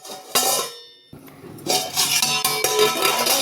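A metal lid clanks onto a cooking pot with a ringing clink, followed by a few more metallic rattles and taps nearby.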